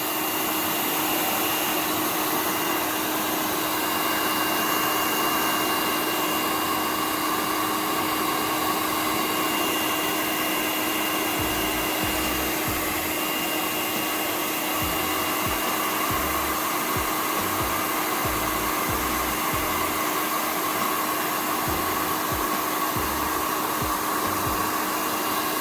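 A handheld hair dryer blows steadily on a wet, misprinted shirt fresh from an Epson F2100 direct-to-garment printer, giving a loud, constant whoosh with a low hum that runs unbroken throughout.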